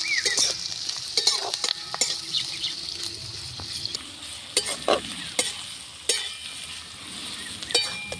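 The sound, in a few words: chopped onions frying and being stirred in pan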